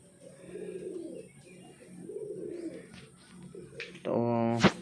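Pigeons coo in soft, repeated low rolls inside a loft, close by, ending in a louder, harsher call, with someone talking faintly in the background.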